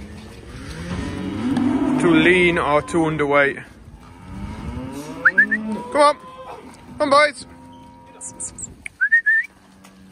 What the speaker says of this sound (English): Let's get some cattle out.